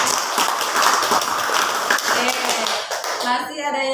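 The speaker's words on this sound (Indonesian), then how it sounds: "Kita kasih aplaus." Classroom applause from students in an Islamic studies class, a steady wash of many hands clapping at moderate loudness that tapers off toward the end, with voices mixed underneath.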